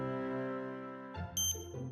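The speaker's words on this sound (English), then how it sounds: "a few seconds later the phone rang again" A phone rings in a dubbed anime-style scene, a short bright electronic chime with high tonal notes cutting in after a sustained musical tone, fairly clear and unaccompanied by speech.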